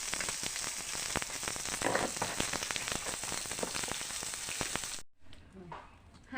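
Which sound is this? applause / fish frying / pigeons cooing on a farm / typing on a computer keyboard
fish frying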